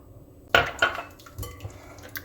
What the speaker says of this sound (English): So I'll mix the eggs, and then I'll add butter